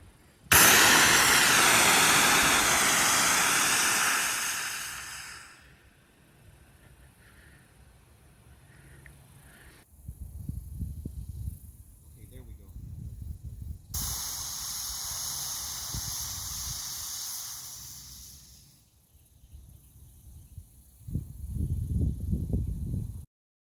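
Grizguard bear spray for grizzly and polar bears blasts out in a loud, hissing discharge lasting about five seconds outdoors, followed by a second, weaker spray burst a few seconds later.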